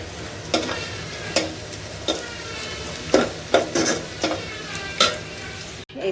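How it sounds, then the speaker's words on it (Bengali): Eggs and red lentils fry in a pan with a constant close sizzle, punctuated by about eight sharp scrapes and knocks of a spatula stirring at uneven intervals, with no speech. "আজকে ভেজে রান্না করব ডিম, ডাল দিয়ে রান্না করব।"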